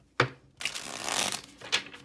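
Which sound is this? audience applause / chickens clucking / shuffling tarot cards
shuffling tarot cards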